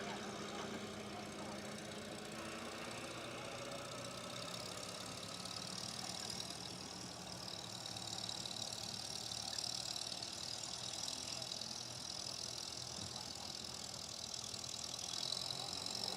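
A 1952 Farmall Super M tractor engine at a fair's barnyard tractor pull, idling steadily with a low rumble and then throttling up, heard at a distance beneath outdoor crowd noise.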